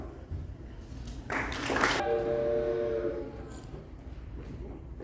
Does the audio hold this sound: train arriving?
yes